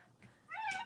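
A cat meows loudly once, close by, a rising and falling call from a cat waiting outside in freezing weather to be let in.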